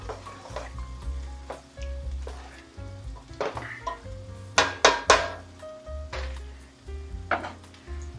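Food fries in a hot pan while being stirred: a bright crackling sizzle broken by repeated scrapes and metallic knocks of utensil against the pan, close and clear, with no talking.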